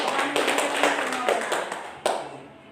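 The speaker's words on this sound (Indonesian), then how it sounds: "Baik, tepuk tangan untuk semua kelompok." Classroom applause for all the student groups, a short burst of light clapping from a small group of students with some overlapping voices, ending in a sharp clap.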